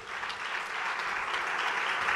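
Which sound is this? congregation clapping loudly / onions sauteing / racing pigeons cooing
congregation clapping loudly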